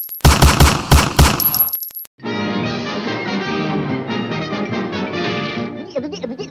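Rapid video-game gunfire: a short loud burst of five or six sharp shots lasting under two seconds, then a cut to a steady stretch of background game music.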